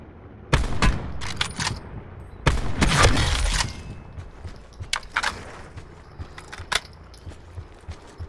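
Gunfire in Call of Duty: Black Ops 4: two loud bursts of rapid close shots, the second longer and heavier, then quieter scattered shots and small clatters as the firing dies down.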